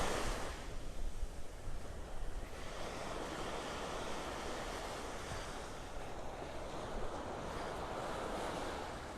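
Waves washing in at the water's edge on Vanderbilt Beach in Naples, Florida, as the tide goes out, a soft continuous surf hiss with wind buffeting the microphone, fairly quiet and without voices.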